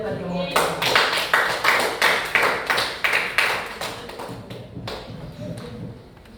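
A classroom of students claps in unison with a rhythmic, evenly spaced burst of applause for a classmate, loud and close, then thins into scattered claps and fades.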